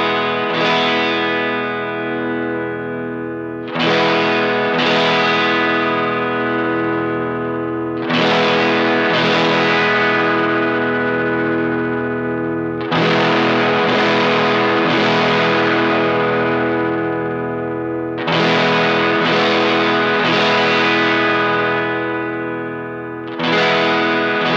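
Guitar played through a germanium diode overdrive pedal with the gain maxed, heavily distorted strummed chords ringing out and decaying, repeated in several loud bursts with short gaps.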